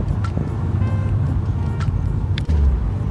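A Mitsubishi Lancer EVO engine rumbles loud and close with low throaty revving and a brief flutter burst near the end, faint voices in the background.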